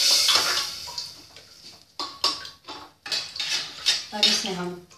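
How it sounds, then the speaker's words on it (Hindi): A spoon stirs egg curry with water in a metal pressure cooker pot, giving repeated clinks and scrapes against the metal in an uneven rhythm, close and moderately loud. "अब इसे अच्छे से चला लेंगे।"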